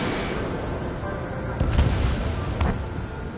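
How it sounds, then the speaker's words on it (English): Bombing explosions in the combat flight game Ace Combat 7, with two dull, heavy booms landing over a continuous roar of engine and battle noise. "They're bombing us."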